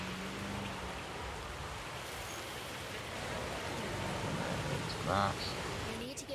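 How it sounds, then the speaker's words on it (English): Rain falls in the Jurassic World Evolution video game as a steady, full, hissing wash of drops, with a brief louder patch near the end. "I love the rain effects on this."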